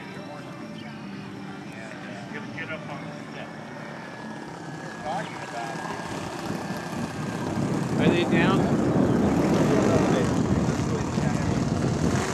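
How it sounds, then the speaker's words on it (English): Seawind radio-controlled model seaplane with its motor mounted on top, a propeller engine buzzing at a distance over a lake float-fly, growing louder toward the end, with people talking throughout. "Motor on top, it's got a little tendency to go down under power"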